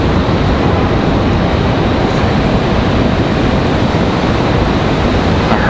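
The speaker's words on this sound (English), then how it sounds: "we just had a go around that Max 9 going around there" Boeing 737 Max 9 jet doing a go-around over Raleigh-Durham International Airport, a loud steady broadband engine roar that fills the whole stretch without letup, close overhead and alone.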